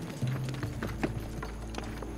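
Horse hooves clip-clop in a steady trot as a horse pulls an ancient Egyptian chariot with six-spoked wheels, a handful of moderately loud hoof strikes over a constant low rumble.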